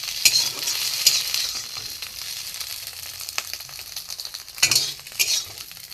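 Eggs sizzle steadily in a hot pan for a Bengali egg dal, with a few sharper scrapes and clinks of a utensil lifting them out, close and alone with no talk.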